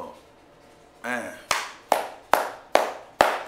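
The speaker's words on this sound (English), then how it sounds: "that's all I can do is clap" Hand clapping, six sharp claps at a steady, slightly slowing pace, loud and close after a brief burst of voice at the start.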